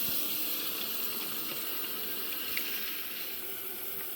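Hot water runs steadily from a tap into a bucket of homemade non-toxic laundry detergent, a continuous close rushing splash that holds an even level throughout with no voices.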